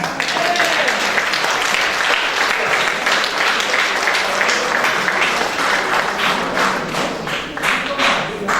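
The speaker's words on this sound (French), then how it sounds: "Est-ce que nous pouvons les acclamer?" A wedding congregation in a church service breaks into sustained applause and cheering for a couple married over forty years, a dense, steady wash of many clapping hands lasting throughout with a faint voice underneath.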